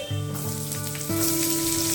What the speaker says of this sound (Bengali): আচ্ছা এবার আমি এটার মধ্যে পেঁয়াজ দিয়ে দিচ্ছি